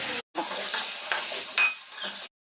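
Raw, tender dal stirred and fried in a hot pan gives a close, steady sizzle with scraping stirring strokes, cut by a brief pause near the start; no voices.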